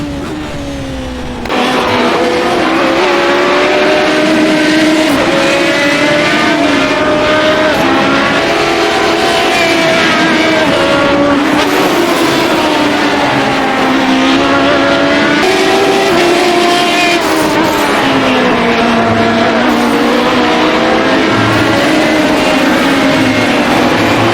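A Radical SR8 race car engine in iRacing at Oran Park screams loudly and continuously, its pitch rising and falling through gear changes and corners, with faint tire noise and no talk.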